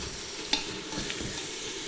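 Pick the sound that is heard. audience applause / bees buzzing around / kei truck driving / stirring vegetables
stirring vegetables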